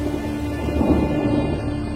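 A thunderstorm with heavy rain in Kakadu, Australia, a steady dense downpour with a low rumble of thunder rolling beneath it, continuous and enveloping.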